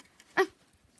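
A foster dog gives a single short bark or yip, brief and moderately close, with quiet surroundings.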